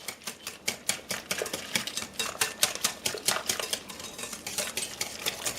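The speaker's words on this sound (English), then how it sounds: "I'm going to put that in, use my whisk, and do this for 2 minutes" A wire whisk beating instant chocolate pudding mix into 2% milk in a bowl, a fast, steady run of close, rattling clicks and scrapes against the bowl, continuous throughout with no talking.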